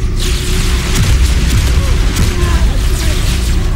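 Dense, booming blasts from a Brute Shot grenade launcher in the Halo 2 Anniversary campaign, loud and continuous across the clip, layered with game noise and faint voices.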